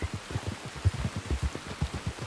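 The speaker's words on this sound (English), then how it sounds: "You were right about the damn rain." Rain falls in Red Dead Redemption 2, a steady patter of close drops spattering on surfaces with an even, continuous rhythm and no voices over it.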